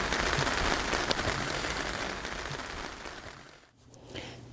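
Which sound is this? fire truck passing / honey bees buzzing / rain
rain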